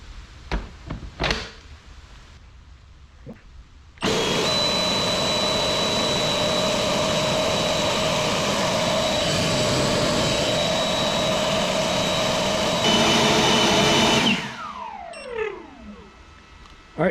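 An EGO 880 CFM battery leaf blower on turbo mode with a 4 amp battery kicks on with a loud, steady high-pitched roar that holds for about ten seconds, then winds down, preceded by a few clicks and handling noises.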